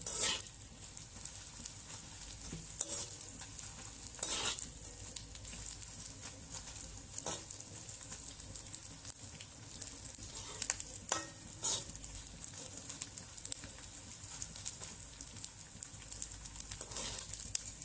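Edible gum (dink) frying and puffing up in a pan of hot fat for laddoos: a steady quiet sizzle with occasional soft pops and stirring clatter throughout, no talk.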